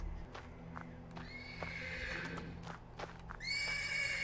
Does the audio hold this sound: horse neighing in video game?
yes